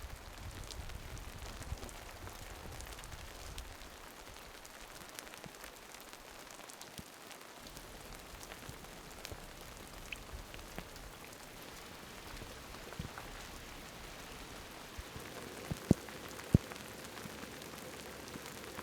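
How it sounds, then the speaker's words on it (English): Heavy rain drums steadily on a hand-built camper during a Pacific Northwest storm, a dense, continuous patter with a couple of sharper drips near the end and no talking. "Oh man, it is just coming down."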